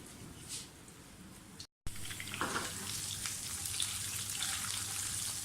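Green chilies, ajwain and cinnamon sticks fry in hot oil with a steady, close sizzle and crackle; a brief dropout breaks it before the hiss settles back in, continuing evenly throughout.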